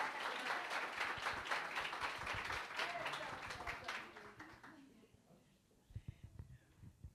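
Warm applause from an audience at a school literary showcase, a thick patter of clapping for several seconds that fades out, leaving scattered murmurs and a few isolated claps.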